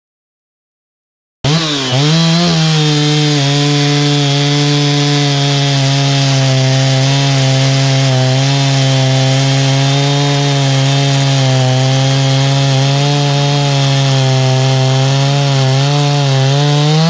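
A Stihl MS390 chainsaw fitted with a 660 carburetor starts after a moment of silence, then runs with a steady, loud, close engine drone whose pitch wavers slightly for about fifteen seconds, with no talk.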